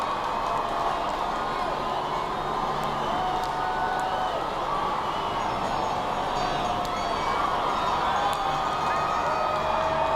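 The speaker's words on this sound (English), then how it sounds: "taking in the immense crowd of well-wishers who've gathered here from all parts of Britain and indeed many countries around the world" A vast crowd of well-wishers at a royal wedding outside Buckingham Palace in London sends up a steady, distant roar of cheering and voices that holds unbroken for the whole stretch.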